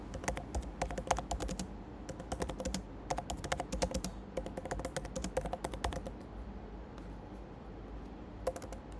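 Rapid bursts of typing on a computer keyboard, close and clear, with quick clustered keystrokes separated by short pauses and no voices.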